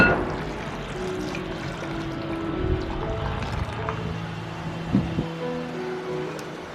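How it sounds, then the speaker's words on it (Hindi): Water pours steadily into a bowl of chickpeas in a home kitchen during falafel preparation, making a continuous close rushing fill sound with a few small clinks and no talk. "तो एक बाउल में निकाल के मैं पानी डाल रही हूँ।"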